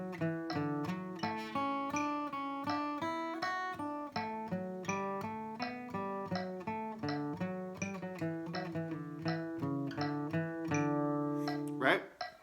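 A metronome ticks at quarter note 82 bpm in a steady pulse under a melodic instrument line played along with it. The clicks are faint beneath the louder notes.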